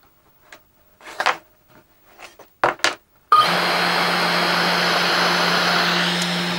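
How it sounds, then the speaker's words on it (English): After a few scattered clicks and taps, the FoxAlien Masuter Pro CNC router spindle starts abruptly and runs steadily up close, a continuous whirring hum with a faint high whine that holds to the end. "you can really hear how quiet that spindle is"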